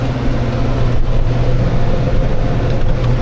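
New Holland T5.140 tractor engine revving up to around 2000 rpm while working soft soil, a loud, steady, close diesel drone that holds throughout with no talk over it.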